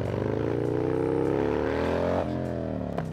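A motorcycle engine revs during wheelie practice. The pitch climbs steadily and loudly, then drops sharply and settles as the throttle eases.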